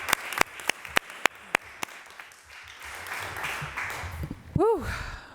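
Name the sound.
audience applause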